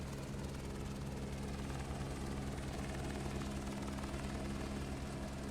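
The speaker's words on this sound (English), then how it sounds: "I know you can still hear the helicopter in the background." A steady, droning helicopter rotor hum in Microsoft Flight Simulator 2024 fills the whole clip at an even level, with no talking over it.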